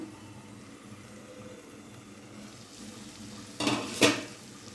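Crab curry with coriander powder being stirred in a pot, quiet simmering at first, then a short burst of spoon scraping and clanking against the metal near the end, close and alone without speech.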